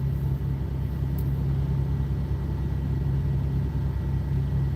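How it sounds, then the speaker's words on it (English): A semi-truck's diesel engine runs steadily somewhere behind the listener, a low, constant rumbling drone with a faint, even pulse and no change in pitch. "listening to that diesel motor back there running"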